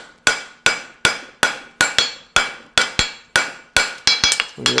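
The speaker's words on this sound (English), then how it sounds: "Take the round of my hammer, just localize it a little bit." Steady hammer blows forging a hunter front horseshoe, about a dozen sharp ringing metallic strikes in an even rhythm, each decaying quickly, the last few coming faster and closer together, loud and close with no talking.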